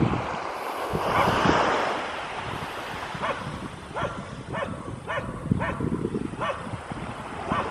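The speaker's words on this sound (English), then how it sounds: "Stop barking!" Dog barking outdoors beside waves and wind, a run of repeated sharp barks at mid distance over steady surf and rumbling wind noise.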